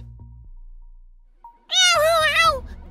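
A cat meows loudly in the video game The Elevator Game, one drawn-out, wavering high cry that follows a short quiet stretch and faint game sounds.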